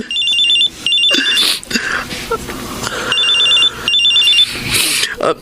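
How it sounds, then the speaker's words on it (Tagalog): A cellphone rings an incoming call with a bright, repeating electronic chirping ringtone. The rings come in two clear bursts with other noise and activity around them, close to the listener. "May tumatawag sa cellphone ko."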